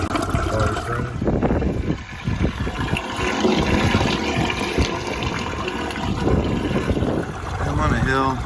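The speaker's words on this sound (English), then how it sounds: "Open the valve, water's running." Water rushes through a funnel and open valve into an off-grid cistern on a hillside, a loud turbulent gurgling and splashing that continues throughout, with brief handling noises.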